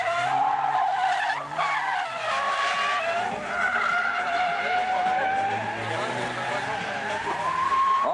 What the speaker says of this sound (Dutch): dan zet je weer even het gas op, hoor, Jan.